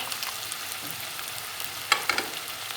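Onions frying in a pan for a mung bean stew, a soft steady sizzle with a couple of sharp scraping stirs near the end, close and fairly quiet with no talking.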